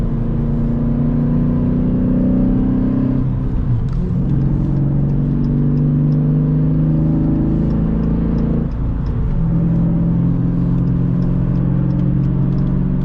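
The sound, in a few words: vehicle engine accelerating while driving at speed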